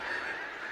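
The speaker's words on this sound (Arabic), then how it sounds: "أسراب الأوز الثلجية ترتاح على بحيرة كوتيناي قبل الطيران إلى القطب الشمالي" Snow geese resting on Kootenay Lake honk as a flock in a dense, continuous chorus that sounds fairly distant and soft, with no voices present.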